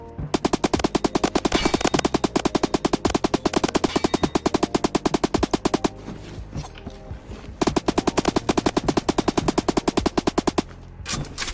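Rapid automatic gunfire in the video game Phantom Forces, long sustained bursts of fast evenly spaced shots, loud and close, broken by a short pause before another long burst and a final trailing run.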